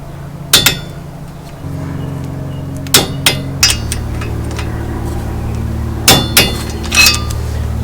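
Torque wrench tightening the hub bolts on a Mitsubishi Montero Gen 2.5 to 40 foot-pounds, sharp metallic clicks and clinks in small clusters over a low steady hum, fairly close.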